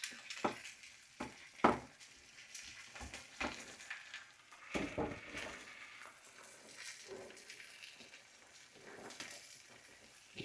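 Bacon burger and tomatoes frying in a pan, a steady low sizzle broken by sharp scrapes and clatters as the food is stirred and moved about, close and moderately loud with no talking.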